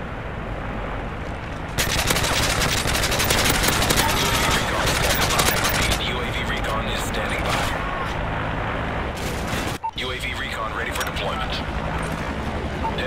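Dense, sustained machine-gun fire and explosions from a strafe run in the Call of Duty Modern Warfare 3 Team Deathmatch on Lockdown roar loudly and continuously, with in-game radio voices over the barrage.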